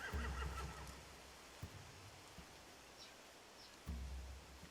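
A horse in a video game neighs loudly at the start, then scattered faint rustles and thumps, and a second neigh rises near the end.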